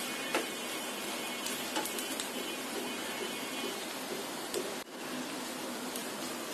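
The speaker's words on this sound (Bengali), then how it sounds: "এখন আবার এই ময়দাটা এই পেঁয়াজের সাথে একটু ভেজে নিতে হবে।" Flour frying with onions in a pan gives a steady, even sizzle that stays close throughout, with a few light clicks and one brief clatter partway through.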